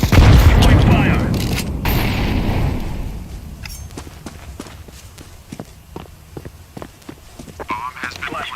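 Grenade blast in a first-person shooter game, a loud booming burst at the start that decays into rumble, followed by a run of quick footsteps and scattered clicks, with voices present.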